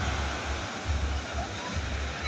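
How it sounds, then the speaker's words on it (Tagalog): Large ocean waves surging during a sudden storm near boats at the shore, a dense, continuous roar of surf with rolling low swells, loud and close, with a voice speaking faintly beneath it. "Grabe lalaki ng alon."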